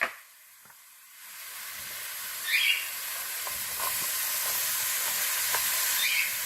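Half of the chopped onions go into a hot pan for homemade tomato sauce, setting off a steady sizzle that builds and holds, with a few faint clinks and no speech.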